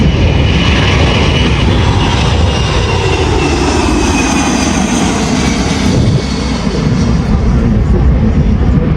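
A fighter jet on a fast flypast at the Avalon Australian International Airshow, a loud, steady roar of jet engine that swells and shifts as the aircraft passes from left to right.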